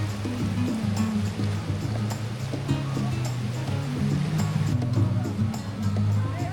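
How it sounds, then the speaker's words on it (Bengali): Big sea waves roar and crash continuously onto the crowded beach at Shamlapur, Cox's Bazar, a dense steady wash of surf with faint voices blended into it. "সমুদ্রের গর্জনের সাথে সাথে বড় বড় ঢেউ আছড়ে পড়ছে বিচে।"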